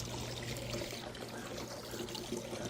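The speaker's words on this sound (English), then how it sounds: "Fill both sides with water." Water pours steadily into the base of a wheeled patio umbrella stand, a soft continuous trickle with no talking.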